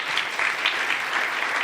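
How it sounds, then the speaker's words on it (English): Audience applause at a civic innovation challenge event in Fort Collins, a steady, dense wash of many hands clapping at moderate volume throughout, with no voices over it. "let's give one more round of applause for Anne-Marie and CSU"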